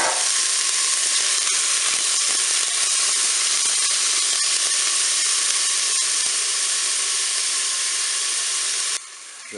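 Onions sizzle in a preheated Cookeo multicooker pot, a loud, steady frying hiss that runs unbroken and then drops off sharply near the end.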